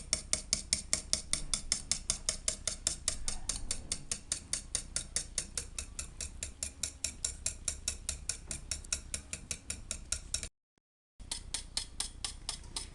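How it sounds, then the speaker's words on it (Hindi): A whisk beats yogurt and gram flour (besan) in a bowl, making a steady fast rhythm of light clicking taps, with a brief pause near the end before the strokes resume. "दही को फेंट के इसमें आधा कप बेसन शामिल कर दें"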